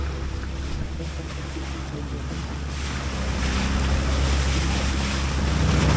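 A boat motors across a huge lake formed by a dammed river in Thailand, with a steady engine drone, water rushing past the hull and wind buffeting the microphone, growing slightly louder.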